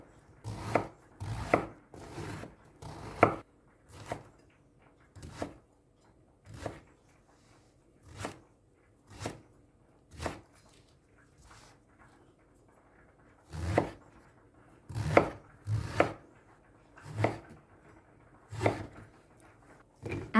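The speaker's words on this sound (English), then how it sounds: "get 1 eggplant and cut it into cubes" A knife chopping an eggplant into cubes on a board, sharp crisp cuts coming in quick bursts of several strokes separated by short pauses, close and clear with no talk.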